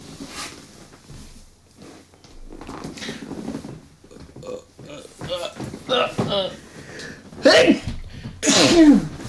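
A loud, sharp sneeze bursts out near the end, close to the mic, following people talking.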